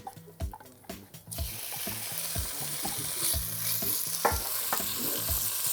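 Chicken breast pieces hit hot oil in a pot and a steady sizzle takes over, loud and continuous, after a few clattering knocks of the pot and utensil.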